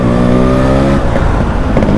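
A Yamaha RX two-stroke motorcycle engine revs loud and close, a buzzy rising note that breaks into rough, crackling throttle blips partway through.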